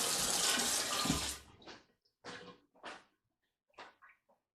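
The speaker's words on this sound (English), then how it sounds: "So what we do is just going to wash our hands." Running tap water splashes loudly into a kitchen sink for a little over a second as hands are washed, then cuts off, leaving a few short scattered splashes and drips.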